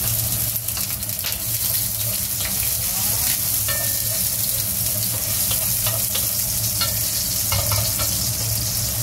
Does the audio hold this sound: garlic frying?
yes